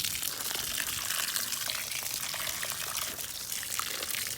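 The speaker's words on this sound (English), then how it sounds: "You want to water it down." Water pours steadily from a can into the soil of a freshly repotted taro plant, a continuous close splashing gush that lasts throughout without talk.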